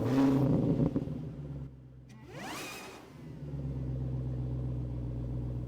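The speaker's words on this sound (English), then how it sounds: "And I'm going to roll out of here, feeling the gentle bump of the gutter and curb ramps" A 2025 Audi RSQ8 rolls out over a gutter and curb ramp on a residential street, its engine a low steady hum inside the cabin with a brief whooshing swell and a soft bump.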